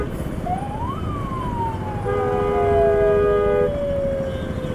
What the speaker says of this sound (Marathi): कोणी सायरन लावलं?